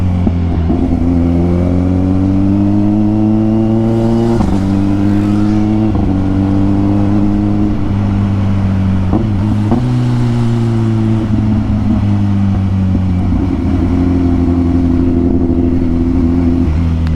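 A Kawasaki Ninja 1000SX motorcycle engine on a night ride accelerates through the gears, each pitch rise ending in a brief dip at the shift, a loud, close, steady hum with no talking.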